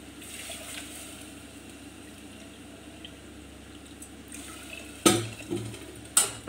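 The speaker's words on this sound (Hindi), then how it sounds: "अब इस कटोरी से ही नाप के इसमें तीन कटोरी पानी डाल दीजिए।" Water poured from a bowl into a cooking pot for daliya khichdi, with a soft trickling wash followed by a few louder knocks and clinks of the vessel near the end.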